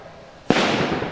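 Artillery shells bursting around insurgents in a Warsaw Uprising 1944 radio drama sound effect: one sudden loud blast, then a dense rumbling, crackling roar of explosions continuing close up to the end.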